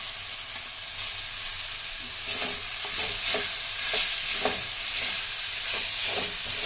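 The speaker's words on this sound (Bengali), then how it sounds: "ভালোভাবে কষিয়ে নিই।" Paneer stir-fried in a pan with red chilli and ginger powder: a steady moderate sizzle, punctuated by repeated scraping strokes of a spatula in a loose rhythm that grows busier toward the end.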